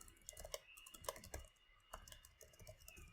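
Fast typing on a new Mac keyboard, close up: a steady run of light, crisp key clicks with uneven rhythm and a few harder taps, no voices.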